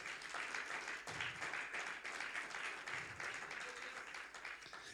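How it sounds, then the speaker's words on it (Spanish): Church congregation applauding during a sermon, a steady, fairly distant wash of clapping that holds for the whole stretch with slight swells. "denle un fuerte aplauso al Señor"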